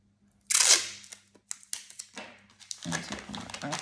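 Gift wrapping paper that has been used before is crumpled and crinkled up close in a burst of rustling, followed by scattered crackles and handling noises, with quiet talk in the background.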